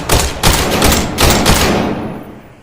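Gunfire in a first-person video game: several loud, close bursts of rapid shots in quick succession over about two seconds, then tailing off into quiet, with no talk over it.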